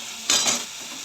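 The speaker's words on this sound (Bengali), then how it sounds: "মশলা জলে মিশিয়ে দিয়ে দিলাম কষাবো মশলাটা সুন্দর করে কষা করে ভাজা হবে" A short burst of sizzling as a spice paste, mixed with water after onion and tomato, hits a hot pan, rising sharply and fading within half a second.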